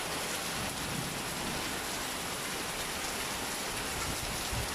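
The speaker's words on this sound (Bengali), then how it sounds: "তো ফাইনালি বৃষ্টি নেমে গেল" Steady, dense rainfall in Malaysia hisses continuously, with no pauses or voices, filling the whole stretch with an even wash of falling drops.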